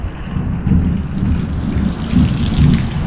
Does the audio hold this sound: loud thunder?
yes